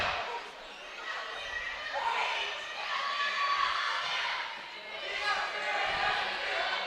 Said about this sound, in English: We got a little cheer war going on between student sections here